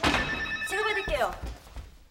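A telephone rings in a home, one loud close electronic ring with a warbling tone, followed by a brief thump as the receiver is picked up.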